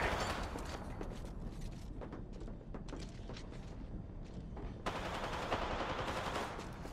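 Sustained video game gunfire in a battle royale match, dense rattling bursts of automatic fire with sharp shots, loud and continuous throughout with no talk.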